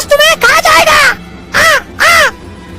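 A crow caws loudly several times in a cartoon story, harsh drawn-out calls in quick bursts close up, with a pause before two final separate caws.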